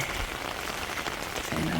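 Steady rain patters densely on shade cloth stretched over garden tomatoes, a continuous close hiss with no pauses.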